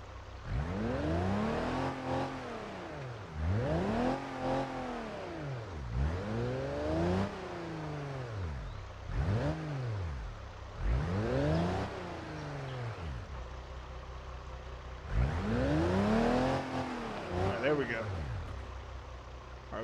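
A car engine in the driving game BeamNG.drive revs hard in repeated rising and falling surges, loud and continuous, with short dips between pulls and a voice talking over it.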